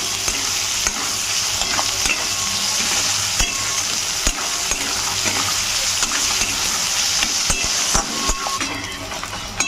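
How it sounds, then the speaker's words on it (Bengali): Onions fry in a pan for a red chicken curry while being stirred, a steady close sizzle punctuated by frequent sharp spatula scrapes and knocks against the pan, with no talk. "পেঁয়াজগুলোকে ভালো করে ভেজে নেব।"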